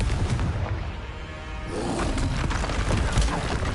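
A Confringo blasting spell detonates in Hogwarts Legacy, a deep booming explosion that swells after a brief lull into a sustained roaring rumble, loud and close with no voices.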